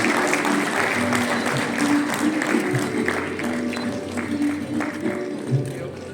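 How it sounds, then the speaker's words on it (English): Audience applause at a hotel anniversary celebration during the unveiling of a procurement manual, a broad sustained wash of clapping from a large crowd with a low hum underneath, steady throughout. "Can we have a huge round of applause?"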